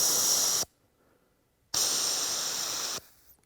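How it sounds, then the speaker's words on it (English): Two loud hissing bursts from a pressurized can of bear spray, the first short and the second longer, separated by a moment of near silence. "we're gonna point it at the bear and spray"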